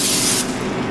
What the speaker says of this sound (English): I'm actually just going to spray it